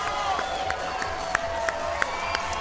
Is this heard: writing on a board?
no